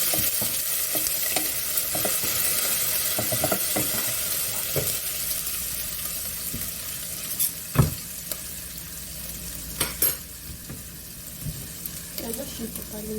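Ginger frying in oil as a broad, steady sizzle with scattered clinks and scraping stirs, a few sharper knocks of a utensil against the pan.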